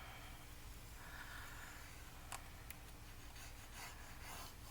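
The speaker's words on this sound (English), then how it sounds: "I'm just kind of rubbing it back and forth" Scoring tool rubbed back and forth on thick paper, a quiet, soft scratchy rasp in short repeated strokes, faint and close, with a couple of sharper clicks partway through.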